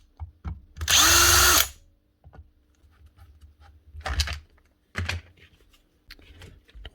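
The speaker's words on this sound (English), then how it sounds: "Don't like these types of DeWalt drills." A DeWalt power drill on a repair bench, run in a short loud whirring burst of under a second, followed by clicks, handling knocks and a couple of brief rattly bursts, with no talking.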